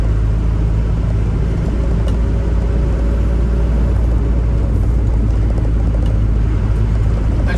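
An Isuzu NPR truck drives along a road, giving a steady, loud low engine and road rumble with constant tyre and wind noise and no breaks.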